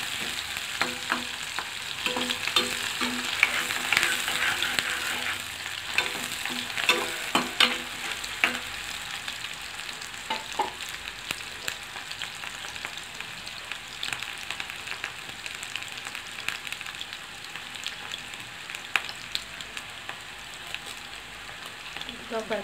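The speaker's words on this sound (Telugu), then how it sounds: "ఆనియన్ వేసి బాగా కలుపుతున్నానండి." Onion sizzling and frying in a pan for a cabbage egg curry while being stirred, a steady crackling sizzle with scraping stirs throughout and no talking.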